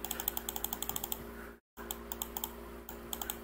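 Steady, rapid mouse and keyboard clicking while playing Kenshi on PC, close to the microphone, with a brief gap of silence midway and a faint hum underneath.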